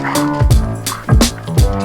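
An excited dog barks and yips in quick repeated bursts close by, several sharp loud barks in a row with brief whines between them and no talk.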